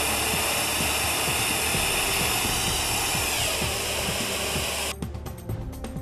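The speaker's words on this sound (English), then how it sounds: "Watch as the golf ball is propelled through this 100-foot length of hose" Compressed air rushes through an Exair Line Vac conveyor set at 30 psi, driving a golf ball along a 100-foot hose. A loud, steady hiss carries faint low knocks and cuts off abruptly near the end.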